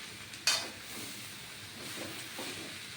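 Cabbage ghonto is stirred in a hot pan, opening with a sharp spoon clack and followed by a steady close sizzling hiss with faint scraping.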